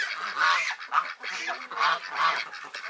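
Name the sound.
goose honking by the pool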